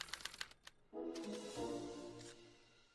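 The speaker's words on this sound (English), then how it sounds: "they're relayed to this special typewriter, which prints out a punch card that represents the subject's mind map" A special typewriter printing out a punch card: a rapid run of sharp mechanical clacks, then a denser whirring, buzzing mechanism that fades over a couple of seconds, faint and alone.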